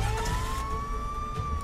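A police car siren wails in a steady, rising tone that stays loud and close throughout, with engine rumble underneath and no talking.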